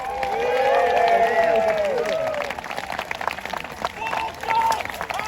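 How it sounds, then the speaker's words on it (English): Outdoor crowd at a battle reenactment cheering for the Lancastrians and Yorkists, a loud swell of shouts and cheers that fades into scattered calls and voices. "give the Lancastrians and the Yorkists the hugest cheer that you can"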